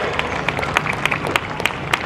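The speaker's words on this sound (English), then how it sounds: "Give a nice round of applause and good encouragement there." Scattered clapping from an outdoor crowd at a 2016 Jubilee Parade, made of light irregular claps over a busy background murmur, brief and fairly distant.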